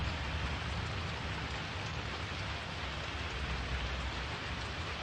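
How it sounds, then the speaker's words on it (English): Synthesized thunderstorm rain from a Eurorack modular synth, a steady dense hiss of rain-like noise with a low rumbling floor, constant and loud throughout with no gaps. "So when the thunderstorm is high, when it's playing"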